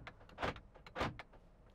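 Power door locks on a 2014 Jeep Wrangler Unlimited Sahara actuate in quick mechanical clunks, with two louder thumps among several smaller clicks, close and clear with no talk.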